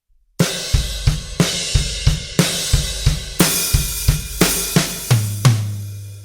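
A full drum kit plays a steady groove, with regular kick, snare and cymbal hits ending on tom strokes. The kit is loud and close, with no talking.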